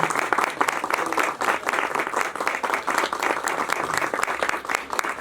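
Steady, dense applause from an audience at a music video launch ceremony for a Nepali song, many hands clapping together at close range for the whole stretch without pause.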